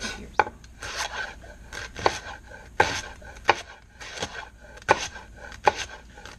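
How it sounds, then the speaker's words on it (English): A vegetable knife slices the harder ends of leeks thinly on a board, giving a steady run of crisp, close cuts with sharp accents and a soft rasp between strokes. "The ends of these get a little bit harder, so I'll cut them a little bit thinner than I did at the top"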